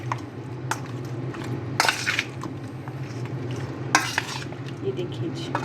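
Raw chicken is mixed by hand with garlic ginger paste for chicken Manchurian, giving a soft, continuous squelching and stirring with two louder wet slaps, over a steady low background hum.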